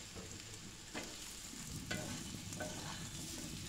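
Potatoes tumble into a sizzling egg masala in a pan, raising a steady frying crackle with a few louder stirring scrapes and clatters close by; no one speaks.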